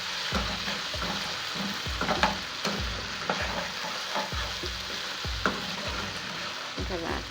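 Pork frying in a pan makes a steady, close sizzle, broken by regular stirring and scraping strokes, with no talk over it.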